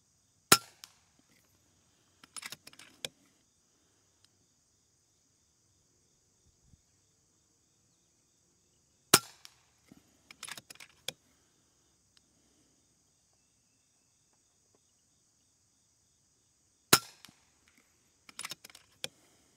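A Panthera Hunter Compact .22 caliber rifle fires three sharp, fairly quiet shots spaced about eight seconds apart, each crack followed by a short cluster of softer mechanical clicks, over a near-silent outdoor background.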